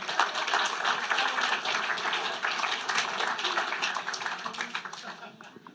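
Audience applause in a hall during a fellows presentation ceremony, a steady dense wash of clapping held for several seconds before fading toward the end.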